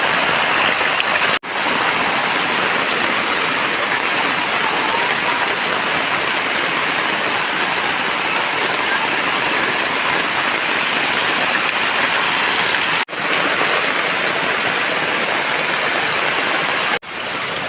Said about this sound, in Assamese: বৰষুণ কমা নাই আৰু বেছি বাঢ়িহে গৈ আছে চাওকচোন